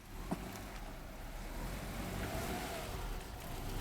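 Subaru Forester engine revving steadily while maneuvering, a continuous mid-level drone that rises slightly partway through, with no voices over it.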